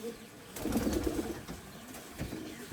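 Pakistani flying pigeons in a loft give low, soft cooing that swells for a moment, with faint rustling and possible wing flutter nearby.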